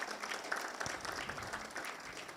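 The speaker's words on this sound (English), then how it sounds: "let's give a round of applause to Sister Kyoko" Audience applauding harpist Sister Kyoko after her healing harp performance, a steady wash of clapping at moderate level throughout, with faint voices mixed in.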